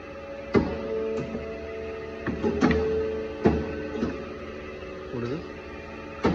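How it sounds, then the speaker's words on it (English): A Horizon APC 58 NC paper and board cutting machine runs with a steady mechanical hum. Sharp clunks and whirring strokes come at irregular intervals, with voices talking nearby. "Horizon cutting machine."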